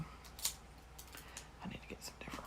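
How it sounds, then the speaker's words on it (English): Scissors cut plastic canvas in a few soft snips and clicks up close. The sound is faint and brief. "scissors"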